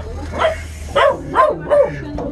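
A pregnant female dog barks several times in short, sharp yips, with four distinct bursts spaced about half a second apart, close and fairly loud above a low background hum.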